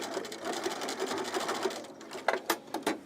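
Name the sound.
sewing machine stitching a top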